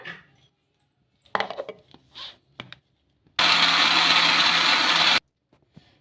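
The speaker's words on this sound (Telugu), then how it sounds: "వేసుకొని మిక్సీ పట్టేసుకుందాం ఇప్పుడు మెత్తగా" A kitchen mixer grinder blends soaked sago with water into batter, a loud steady whirring burst of about two seconds after some clinks of handling the jar, then stops.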